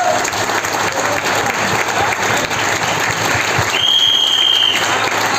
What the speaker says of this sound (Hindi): और सबसे शानदार जोरदार तालियां चाहता हूं एक बार हमारे कोच श्रीमान रामकिशन सर के लिए, जोरदार तालियां सर।